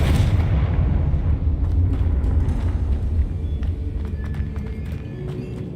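A Confringo explosive spell from Hogwarts Legacy bursts with a heavy, booming blast, followed by a rumbling low roar that slowly thins out, loud and close.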